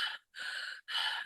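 A voice imitates breathless panting, the way someone gasps for air while walking: three hard, rasping breaths in a steady rhythm, close and loud, with short pauses between them.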